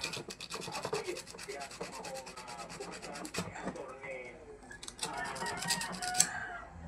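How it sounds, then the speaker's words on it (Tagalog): Sandpaper scrubbing the blackened electrical contacts of a Dowell 6.2 kg spin dryer that will not run, heard as rapid, close, raspy back-and-forth rubbing strokes, with a voice talking partway through. "Kuha muna tayo ng liha para siguradong magkaroon ng kontak. Ayan, lihain lang natin ito."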